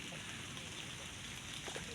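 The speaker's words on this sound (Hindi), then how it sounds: "बारिश जो है ना थमने का नाम नहीं ले रही है" Steady rain pours down on a village during a wet day of mango picking, a continuous, dense hiss that stays even and close throughout, with no voices.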